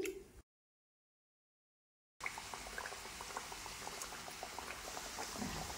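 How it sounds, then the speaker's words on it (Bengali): Potato-stuffed kachori frying in hot oil make a dense, continuous bubbling fizz that starts abruptly after a brief silence and carries on steadily and close. "এবার আমি গরম তেলের উপর কুচুরিগুলি দিয়ে দিচ্ছি।"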